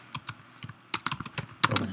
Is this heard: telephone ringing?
no